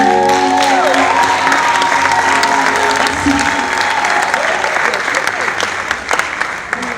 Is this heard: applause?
yes